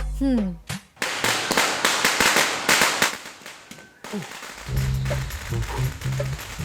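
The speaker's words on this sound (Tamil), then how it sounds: "பட்டாசு வெடிக்கலான்னு சொல்லி கூப்பிட்டா" Rapid strings of sharp firecracker pops crackle loudly for several seconds, then fade as people talk and a voice rises nearby.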